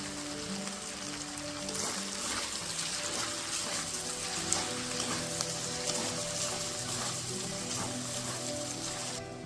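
Masala spice paste with turmeric frying in oil for a chicken curry, a steady loud sizzle and crackle running throughout, no one talking.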